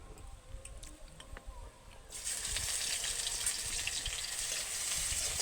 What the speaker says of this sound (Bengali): 1-2 সেকেন্ড মতো আদা রসুনটাকে ভেজে নিচ্ছি যাতে আদা রসুনের কাঁচা গন্ধটা চলে যায়।